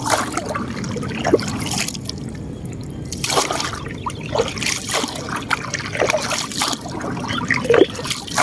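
Water trickles and splashes continuously nearby, with small irregular gurgles and drips over a steady flow.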